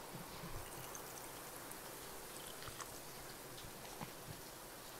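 Liquid splashing and trickling into a glass as a splash of Xander root goes into a drink, a soft continuous watery pour with light droplet sounds, close and quiet, no talking.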